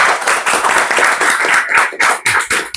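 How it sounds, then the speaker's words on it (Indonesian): Close, loud clapping from a studio audience on an Indonesian talk show, brisk uneven hand claps with a few brief dips in intensity throughout. "Tepuk tangan dulu untuk Abizar"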